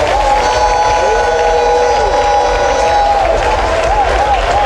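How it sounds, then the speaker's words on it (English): Large political rally crowd at a party manifesto launch in Winneba cheering and applauding for the Speaker of Parliament, a loud continuous roar with wavering whistles or horn tones and shouting voices throughout. "Ladies and gentlemen, a rousing round of applause for the Right Honorable Speaker of Parliament"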